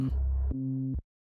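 Deep, buzzy synthesized bass tones with a gritty edge, two sustained notes in a row, then an abrupt cutoff into silence.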